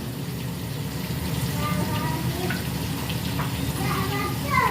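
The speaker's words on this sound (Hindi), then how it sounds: "यहाँ पर हमने कुकिंग ऑयल गरम कर लिया, इसमें डाल लेंगे और इसको हम फ्राई कर लेंगे।" Coated chicken pieces for broast fry in heated cooking oil, giving a steady, dense bubbling sizzle that holds at an even level throughout.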